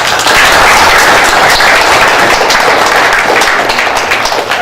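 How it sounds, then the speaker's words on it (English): Loud, sustained applause from a crowd, dense clapping with no pauses for several seconds. "I want everybody to give it a round of applause."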